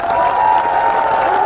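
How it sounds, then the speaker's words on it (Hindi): Crowd applause at a Hanuman Beniwal political rally speech in Chohtan, Barmer, a dense steady wash of clapping filling the whole moment with no break. "आप ताली बजा रहा हो"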